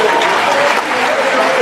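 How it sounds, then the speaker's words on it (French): An audience applauds loudly and steadily at an indoor gathering, dense clapping sustained throughout with a few voices mixed in. "Il faut l'applaudir très fort."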